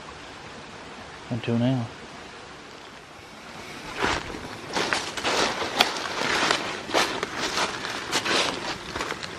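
Creek water pours down into a sinkhole in Bankhead National Forest, a broad splashing rush that swells after a brief spoken phrase, with irregular surging bursts continuing to the end.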